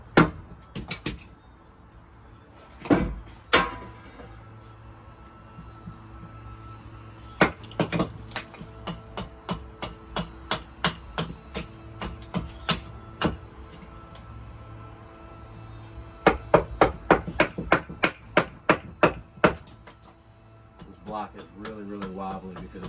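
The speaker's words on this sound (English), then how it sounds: "Maybe we'll split this one up and just process this one quickly." Splitting a log into billets for spoon carving on a makeshift chopping block of two stacked logs, sharp woody knocks and cracks landing in irregular bursts of rapid strikes with quiet pauses between, fairly close.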